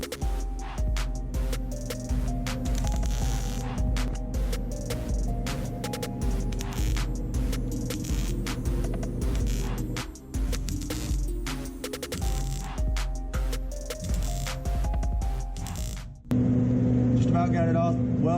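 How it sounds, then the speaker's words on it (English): Welding a patch piece into a Mustang GT body produces a dense, crackling buzz in repeated short bursts with brief gaps, loud and close, ending in a steady hum. "Now we get in here and weld our piece back in."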